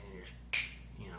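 One crisp finger snap rings out close and sharp amid quiet room tone, done in imitation of a dramatic villain's snap.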